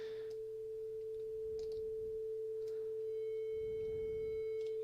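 A steady oscillator sine-wave test tone holds at a constant pitch throughout, fairly quiet, over a faint background hum with a few soft clicks and no speech.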